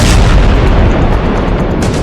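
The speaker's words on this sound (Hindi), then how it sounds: "जब ये बम रात में फटता है तो ऐसा धमाका होता है।" A bomb explosion at night gives a loud, close, sustained booming roar that fills the whole stretch and tails off slightly, with no talking.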